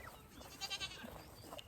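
Goats kept inside an electric fence bleat in a short burst of a few wavering calls, fairly close, against a busy farmyard background with no talking.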